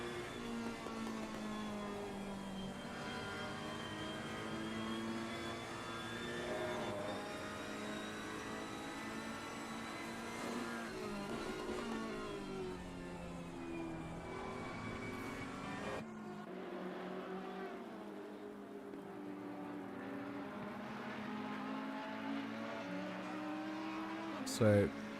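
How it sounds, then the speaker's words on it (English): Audi and Ferrari race cars in a multiclass sim racing endurance event at the Nürburgring give a continuous high engine drone that climbs and drops through gear changes, with the tone shifting abruptly partway through. "Lewis in that Audi going to be putting some pressure onto the 667 Ferrari now as they make their way out of Dunlop up towards the Schumacher"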